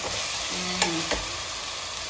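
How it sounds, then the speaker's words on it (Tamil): Steady broadband sizzle of onions sautéing in a pan, with a couple of faint clinks of a utensil stirring partway through. "வெங்காயம் வதங்கிடுச்சு"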